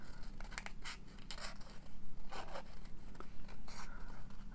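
Scissors snip around a paper frame for a craft tag, with a soft, steady run of close, quiet cuts and scraping paper against a low background hum.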